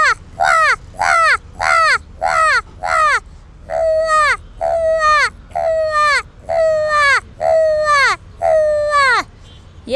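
A girl vocally mimics an old crow: ten loud, close caws, the first five short and clipped, the rest longer and more drawn out, evenly spaced with brief gaps and nothing else heard.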